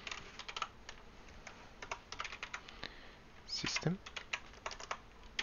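Close, crisp typing on a computer keyboard as a terminal command is entered on Manjaro Linux, with irregular quick keystroke clicks in bursts and a brief spoken word over them.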